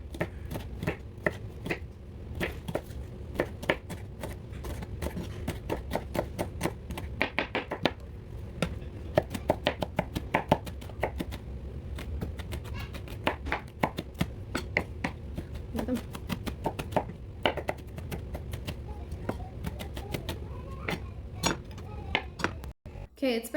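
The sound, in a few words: chopping jalapeno strips with a knife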